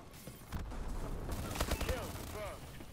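SN6 submachine gun fire in Call of Duty Advanced Warfare, a quick rattling burst of shots under people talking, with game effects around it.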